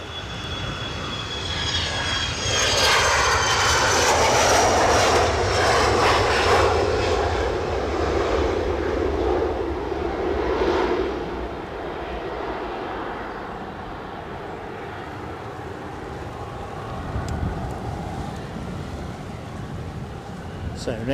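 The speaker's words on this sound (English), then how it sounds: "So next out is the Ryanair 737 to Belfast." A Ryanair Boeing 737 jet departing Edinburgh airport gives a loud, sustained roar that builds, peaks and slowly fades into a distant rumble as it climbs away, with no talking.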